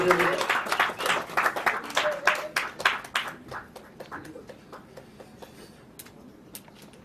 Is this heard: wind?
no